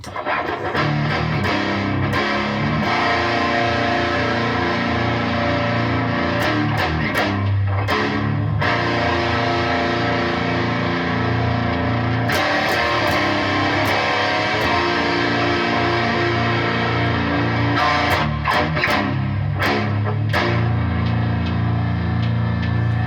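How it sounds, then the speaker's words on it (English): Sustained distorted electric guitar playing a simple riff, thick and buzzing with ringing held notes and a few sharp picked attacks, steady and loud throughout. "gonna play it with distortion."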